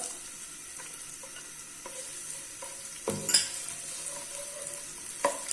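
Chopped onions fry with lightly toasted spices in a pan, a soft steady sizzle broken by several scraping stirs and one louder clatter of the spoon near the middle.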